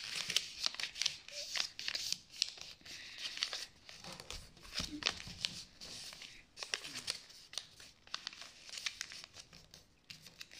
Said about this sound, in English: we're gonna fold this triangle down to the center crease